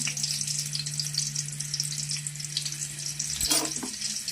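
Onion fries in a spoonful or two of oil, producing a steady bright sizzle over a low hum. A couple of clinking stir sounds come near the end.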